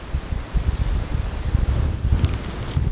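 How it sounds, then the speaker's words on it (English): Wind-driven rain sweeps across a campsite beside a large tent and campfire, a steady rushing, rustling wash with gusty swells and low rumbling buffets against the microphone throughout. "Pretty windy rain coming through."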